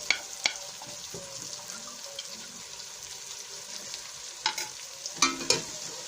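Spices stirred in a hot pan while frying for Pakistani kadhi pakora, a soft steady sizzle with scraping stirs and a few sharper clinks of the spoon against the pan, near and moderately quiet.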